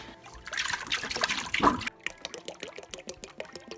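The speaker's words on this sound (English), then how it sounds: "we're going to put a pint of heavy whipping cream and a 1/2 gallon of milk into the Instant Pot" Heavy whipping cream and milk from a half-gallon poured into an Instant Pot, first a continuous splashing pour, then a brief gap and a run of short drips and trickles, close by and alone.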